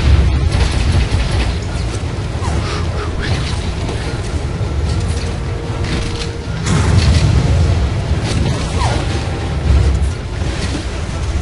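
Dense, continuous rumbling booms and crackling blasts roll on without a break, loud and close, like a constant barrage of explosions in the video game Lost Planet 2.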